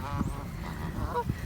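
Geese honk as a flock crosses nearby, a few short honks rising over steady outdoor background noise.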